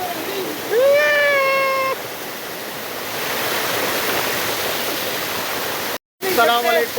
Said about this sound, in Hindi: ये है बिस्सा वाटरफॉल